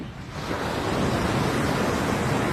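Waves break on a beach in the morning, a dense, unbroken rush of surf that swells quickly after a brief quieter opening and stays loud throughout.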